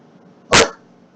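A dog gives a single short, sharp bark, close and loud, against a quiet room background.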